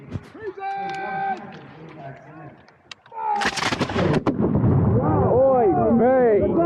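A musket volley from Revolutionary War reenactors at a skirmish fires as a loud, close crackling burst of overlapping shots, after shouted commands from the line.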